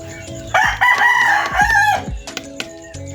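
A cockerel crows loudly and close, one drawn-out crow, amid clucking chickens on a farm raising cockerels and chicks, followed by scattered short clucks.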